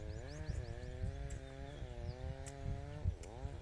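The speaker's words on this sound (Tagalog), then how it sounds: "Ako naman nag-grass cutter ayan oh. Grass cutter ayan." A grass cutter (brush cutter) runs on a farm being cleared for cattle, its engine whining close by and rising and falling in pitch as it revs through cuts, with no talking.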